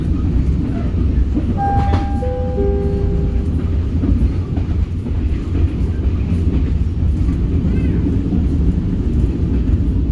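A KAI Commuter Blorasura train runs steadily through the whole span with a continuous rumbling rail roar and faint clickety-clack, while a brief tonal chime or horn-like tone sounds near the start.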